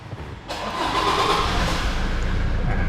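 A Toyota Fortuner 2.8V 4WD TRD Sportivo engine cranks and catches, then settles into a steady, loud idle rumble close by.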